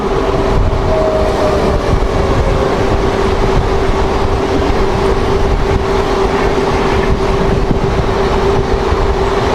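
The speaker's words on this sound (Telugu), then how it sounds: "12863 హౌరా నుండి బెంగళూరు వెళ్ళే సూపర్ ఫాస్ట్ ట్రైన్" The 12863 Howrah–Bengaluru superfast train rumbles past loudly and close, a continuous roar of wheels on rails with a steady tonal hum and no voices.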